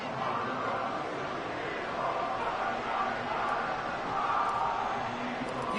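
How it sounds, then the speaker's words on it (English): A dense, roaring stadium crowd in the video game Madden NFL 24 fills the air at Lincoln Financial Field after a Philadelphia touchdown, a loud continuous wash of voices that swells slightly without letup. "You could hear that Lincoln Financial crowd going wild in the background, singing the fight song for Philly."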